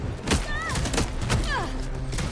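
Gunfire in Vampire: The Masquerade – Bloodlines 2, several sharp shots cracking through a steady mix of game noise, with a voice talking over parts of it.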